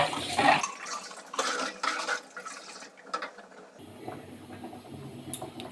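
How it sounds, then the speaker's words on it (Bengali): Semolina and fine flour being stirred into hot water in a pot, a wet sloshing and scraping that comes in bursts over the first few seconds, then eases into softer liquid movement. "এবার একটু নেড়ে দিচ্ছে।"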